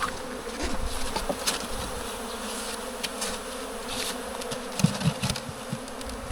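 Bees buzz continuously around beehives in a village apiary, a steady close hum with occasional louder passes of individual insects near the microphone, with no one speaking.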